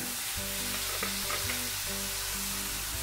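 Sweet corn, tomato and spiced vegetables with garam masala and coriander powder sizzle and fry in a pan for masala Maggi noodles, a constant close crackle with faint stirring and no voices.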